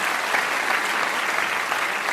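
Steady, dense applause from an audience at a Christmas day gathering where Nepal's President Bidhya Devi Bhandari is chief guest, continuous and even for its whole length with no voices over it.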